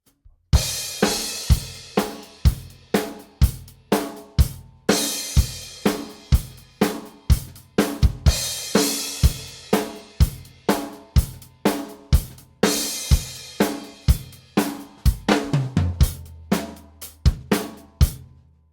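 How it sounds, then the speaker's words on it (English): Rock drum groove from the chorus of a song, a steady money beat with bass drum and sharp snare backbeats. Cymbals ring throughout, and the hits are loud, close and evenly spaced, with no talking. "Now in the chorus, he really opens up the groove, playing what is commonly known as the money groove,"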